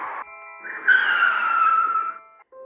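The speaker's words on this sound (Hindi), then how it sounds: "इतनी जोर से गाड़ी क्यों रोक दी तूने?" A car's tires squeal in a long, loud, high-pitched skid lasting over a second, then fade out abruptly into silence.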